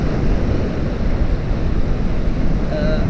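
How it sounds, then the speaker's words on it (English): Strong wind blowing across the sea shore at Caleta de Fuste, Fuerteventura: a loud, steady roar of buffeting gusts and surf wash that fills the whole stretch with no voices. "The wind's stronger than forecast."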